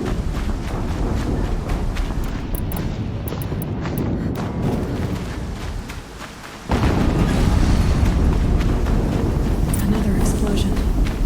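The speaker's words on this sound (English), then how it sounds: "Another explosion." Explosion in the video game Horizon Zero Dawn, heard as a sudden loud boom that steps up into a sustained roar of rumbling blast noise, with game ambience running underneath.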